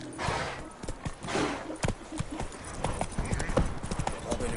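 Roach, Geralt's horse in The Witcher 3, clip-clops at a steady pace, hoofbeats near and distinct over windy outdoor game ambience, with voice-like sounds mixed in.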